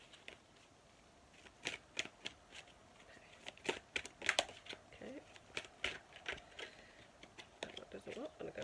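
Soft papery shuffling of large oracle cards in short irregular bursts, quiet and close, with little else around it.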